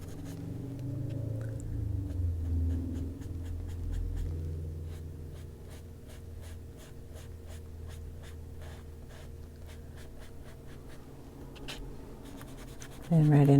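Soft, rapid scratching of colored pencil strokes on an adult coloring page of a lion runs as a steady series of short, faint scrapes over a low background hum, ending with a louder bump.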